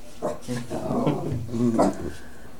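A dog growls and gives short barking yips close by, in a couple of rough vocal bursts indoors.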